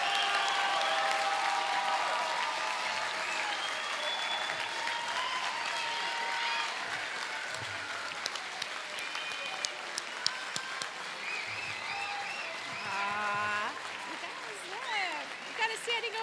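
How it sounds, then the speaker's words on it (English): An audience at a Westmont Junior High School graduation ceremony bursts into sustained applause for the 2025 graduating class, with steady clapping and cheers that gradually thin out toward the end. "Please join me in a round of applause to celebrate the success of the 2025 Westmont Junior High School graduating class."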